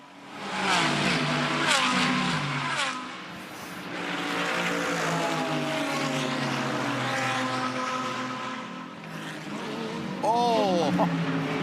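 GT cars, including a Mercedes-AMG and a Porsche, race around Bathurst's Mount Panorama circuit during the 12 Hour. Engine notes rise and fall as cars pass near and far, with a commentator talking excitedly over them.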